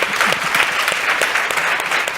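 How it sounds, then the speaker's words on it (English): Dense, steady applause from the audience at a panel discussion on gender-based violence, a continuous wash of many hands clapping with no pause. "that deserves a round of applause"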